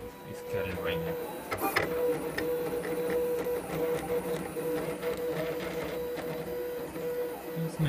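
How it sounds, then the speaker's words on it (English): A Roland CAMM-1 CX-24 vinyl cutter contour cutting, giving a continuous mechanical whir with a faint steady tone and occasional clicks while someone talks over it. "send, and the machine is cutting right now"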